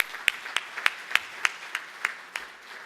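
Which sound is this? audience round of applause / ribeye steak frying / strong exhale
audience round of applause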